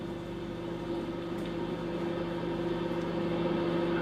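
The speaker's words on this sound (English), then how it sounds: "The microwave is running unattended." A microwave oven runs with a steady, unbroken electrical hum and a faint whir, close by and constant for the whole stretch with no voices over it.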